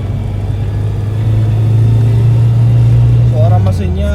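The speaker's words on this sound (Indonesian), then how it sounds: "Suara mesinnya halus dan tidak berisik" A 1995-era Suzuki Katana 4x4 engine runs with a steady low rumble, swelling slightly in the middle before easing off, loud and close. A voice briefly comes in near the end.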